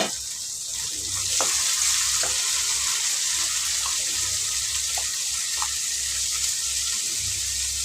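A small tomato drops into a hot pan for tripe gravy, then loud, steady sizzling frying continues with a few light clicks and stirring sounds.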